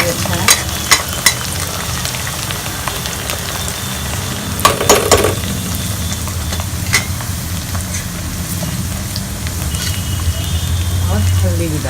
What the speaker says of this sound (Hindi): इसमें थोड़ा हम धनिया पत्ता डालेंगे फ्राई करने के लिए